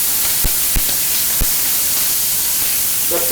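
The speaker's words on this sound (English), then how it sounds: "When you're cooking this, the oil is it's splattering everywhere" Hot oil hisses and splatters steadily in a pan while a bánh xèo crepe with shrimp and pork fries, a loud continuous sizzle broken by a few sharp pops.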